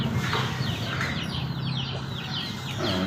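Hens cluck and a cross-breed rooster calls in a backyard flock of free-range chickens, a busy mix of short clucks and squawks at moderate distance over soft background noise.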